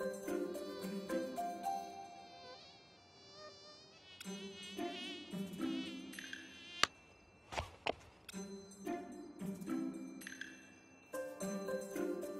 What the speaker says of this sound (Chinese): 外面有蚊子咬我